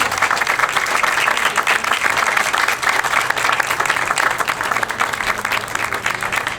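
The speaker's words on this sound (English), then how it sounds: "I would like at this point to have the band stand and applaud the audience" Dense, steady applause from a concert band clapping for its audience, filling the whole stretch at close range with no talk over it.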